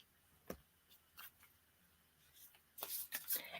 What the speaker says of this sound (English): Shuffle up the cards.